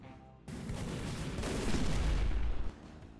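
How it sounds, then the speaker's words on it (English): Bombing explosions in a bootleg Team Fortress 2 video game erupt suddenly into a loud, dense, rumbling barrage that swells and rolls for about two seconds before cutting off. "Killed by bombing"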